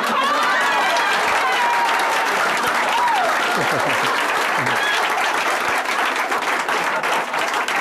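Sustained, near-deafening audience applause fills the room after a magic rope trick, dense clapping and crowd noise holding steady throughout with a few voices rising briefly in the middle.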